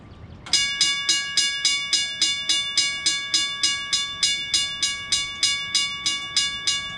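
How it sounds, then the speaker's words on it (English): An old railroad wigwag crossing signal at a transportation museum rings steadily once activated, a loud, close bell striking in a fast even rhythm of about three strokes per second, with no one talking. "Here we have an old wigwag signal, which I'm gonna activate it so you can hear it."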